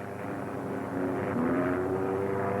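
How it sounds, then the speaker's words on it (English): A black propeller airplane with an X on its wing drones past in a 1936 setting, its engine a steady, fairly loud hum that swells and rises slightly in pitch midway, with no talking. "Robert, there's another plane. It's a black one."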